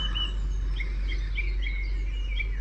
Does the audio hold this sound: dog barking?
no